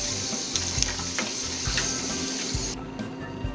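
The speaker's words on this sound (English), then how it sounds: "So I take them out of the oil and continue frying a little bit at a time" Batches of potato fries sizzling and crackling in hot oil, a steady close frying hiss with occasional stirring knocks, before the sizzle drops away near the end.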